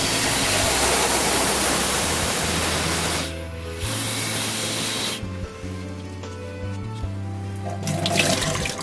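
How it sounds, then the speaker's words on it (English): Water is poured over hands for ritual handwashing, giving a steady, close splashing spray that breaks off briefly and resumes in shorter pours. "You pour the water all over your hand, up to your wrist"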